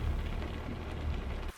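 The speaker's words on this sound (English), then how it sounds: "Couldn't hear much from in here because of the rain." Steady rain drums on a truck, heard from inside the cab as a dense, continuous patter that holds even and loud before cutting off abruptly near the end.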